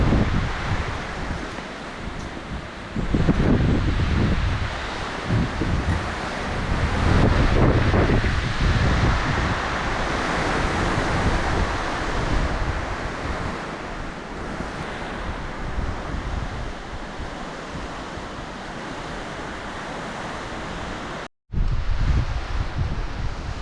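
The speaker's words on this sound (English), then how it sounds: "The wind is really picking up still." Strong wind on an exposed Adirondack mountain ridge in the Dix Range buffets the microphone in heavy roaring gusts, loud and nearly continuous, with one abrupt brief dropout near the end.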